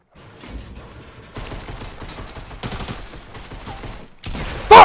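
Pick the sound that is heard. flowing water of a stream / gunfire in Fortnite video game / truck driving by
gunfire in Fortnite video game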